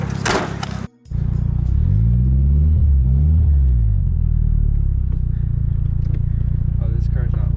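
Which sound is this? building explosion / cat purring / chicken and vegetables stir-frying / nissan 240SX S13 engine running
nissan 240SX S13 engine running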